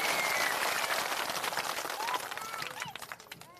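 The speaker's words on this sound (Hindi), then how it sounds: "एक बार जोरदार ताली बजाइए आदरणीय प्रशांत जी को।" Crowd at a Prashant Kishor rally in Pokhram Parmanandpur panchayat, Murliganj, clapping loudly in dense sustained applause that thins toward the end.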